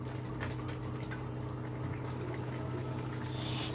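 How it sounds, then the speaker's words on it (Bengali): Fried lentil dumplings go into a vegetable curry at a rolling boil and everything is stirred together, giving a close, steady wash of bubbling liquid and sloshing with faint utensil scrapes. "ঝোলটা যখন বেশ ফুটে উঠেছে তখন আমি দিয়ে দিচ্ছি ভেজে রাখা বড়িগুলো, দিয়ে সব কিছু আবারও ভালো করে মিশিয়ে নিচ্ছি।"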